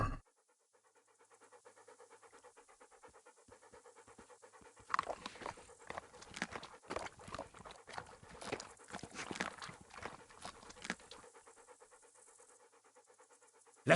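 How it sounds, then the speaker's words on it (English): A dog pants rhythmically in the video game Kingdom Come: Deliverance, quick breathy huffs growing louder and more vigorous midway, mixed with sniffing and soft padding footsteps, close up and without speech. "There's the good doggy."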